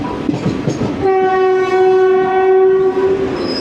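A Kottayam–Kollam passenger train passes near a station, a loud sustained multi-tone horn blaring for about two seconds over rumbling rail noise, with no talking.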